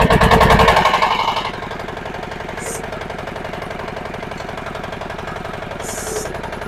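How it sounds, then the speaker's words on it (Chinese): A 50 hp crawler tractor diesel engine cranks on electric start, a brief loud roar as it catches, then settles into a steady close rhythmic idle clatter. "一键电启动。"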